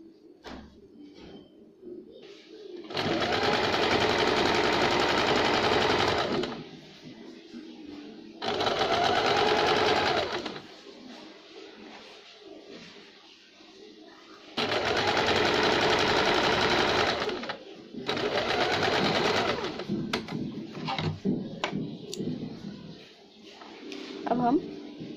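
A sewing machine runs a straight seam along a folded edge of a jumpsuit in four loud bursts of steady whirring, separated by quieter pauses with faint bird cooing in the background.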